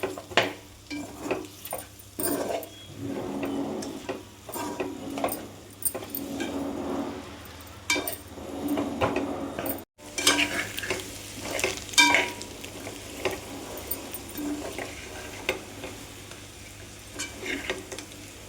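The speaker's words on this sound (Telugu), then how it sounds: "లాస్ట్లో పచ్చిమిర్చి, కొత్తిమీర, కరివేపాకు యాడ్ చేసుకుని ఒకసారి కలుపుకోవాలండి" Chicken dry roast stirred in a hot pan with green chillies, coriander and curry leaves, a continuous close sizzle broken by repeated scraping spatula strokes against the pan, no voices.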